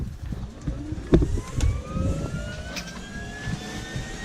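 Helicopter engine running before a flight from Churchill, a loud close turbine whine with rising tones over a rumbling low end, with a few knocks and bumps near the aircraft.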